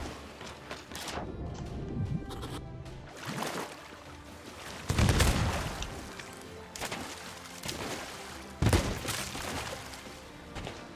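Cannon fire from a skeleton captain in a video game: several heavy booms spaced a few seconds apart, each a sharp loud burst over a quieter game background.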